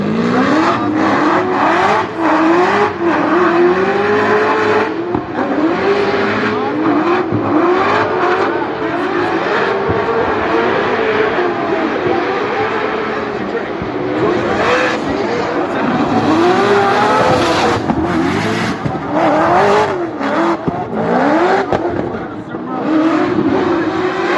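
Formula Drift cars running in tandem at Irwindale, engines screaming and revving hard with tire squeal and skidding, loud and continuous, with a commentator talking over the roar.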